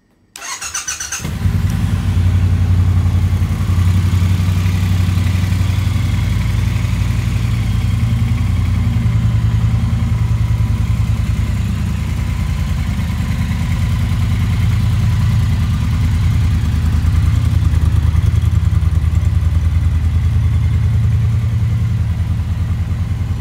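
A 2020 Triumph Bonneville T120 motorcycle engine fires up after a brief crank and settles into a steady, loud, close idle that runs on unbroken throughout.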